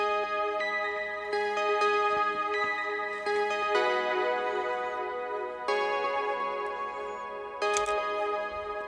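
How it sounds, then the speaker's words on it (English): An Omnisphere synth pad on the Omnichord Acady preset plays chords with bright, plucked, tick-like attacks over sustained harmonic tones. New chord onsets arrive every second or two, clean and up front, with no voices. "First sound I used was this pad out of Omnisphere right here"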